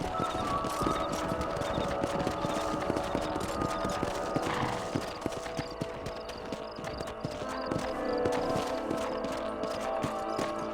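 Horses' hooves clip-clop steadily on a trail in the Red Dead Redemption video game, a dense, continuous patter of several animals moving together, close and loud over a low ambient bed.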